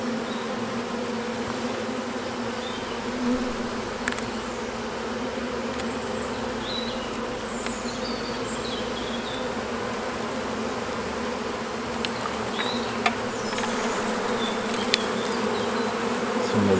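Honeybee colony buzzing inside a hollow tree trunk during a bee rescue, a steady dense hum that stays constant throughout with a few brief sharper insect passes close by and no talking.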